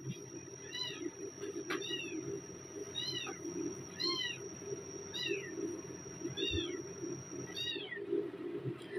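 A small kitten meows repeatedly in thin, high, evenly spaced cries, about seven calls over several seconds, fairly faint against a steady background hum.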